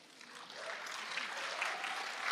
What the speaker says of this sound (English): we can clap for Qadr al-Yatim.